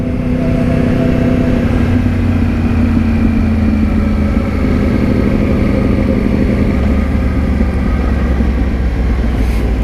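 A 2013 Yamaha R1 sport bike idles through Gita slip-on exhausts, a loud, close, steady low rumble with an even throb that holds unchanged for the whole stretch.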